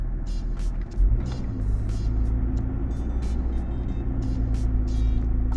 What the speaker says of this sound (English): Feel the car rising.